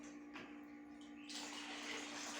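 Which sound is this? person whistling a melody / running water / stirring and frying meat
running water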